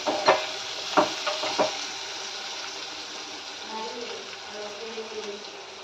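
Chana dal, dried red chillies, garlic and small onions frying in hot oil for a tempering, a steady sizzle with a few sharp spattering pops at the start and a clink of stirring, heard up close.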